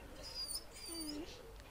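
A dog in the fantasy role-playing game Dragon Age Origins, in the village of Lothering, gives a single short, faint whining call that rises and falls over steady background ambience.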